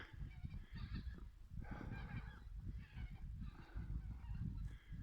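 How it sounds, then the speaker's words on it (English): A flock of geese honks continuously at a distance, their calls layered over a steady low rumble. "You can hear the geese here."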